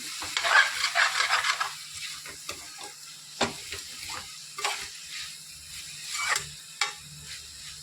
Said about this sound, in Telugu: మధ్య మధ్యలో ఇలా కలిపెట్టుకుంటూ ఉండండి.